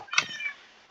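Cats meow in a game while players try to herd them after a glitch, with one clear meow near the start followed by a softer trailing cry, with no talking.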